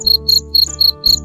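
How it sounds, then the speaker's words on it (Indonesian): Crickets raised on a modern insect farm in America, chirping by stridulation in loud, regular pulsed bursts of about five to six per second, close and clear, with a steady low hum underneath and no talk. "Salah satu yang paling familiar dari peternakan jangkrik ini adalah suara yang"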